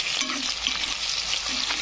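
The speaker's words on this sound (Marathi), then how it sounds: "बटाटे आणि शिमला मिरची छान तळू द्यायची अशी" Potatoes and capsicum sizzling in oil in a pan for masala pulao, a steady close hiss of frying with occasional stirring scrapes.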